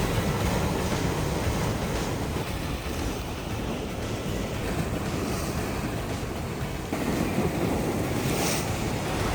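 Sea waves washing along the rocky Cinque Terre coast in Italy, a steady broadband surf roar with gusty wind buffeting the microphone, continuous and fairly loud with no voices.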